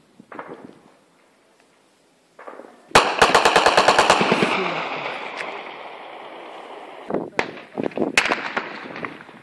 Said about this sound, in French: Et pendant ce temps, nous entendons dans la ville de Kidal des tirs à l'arme lourde.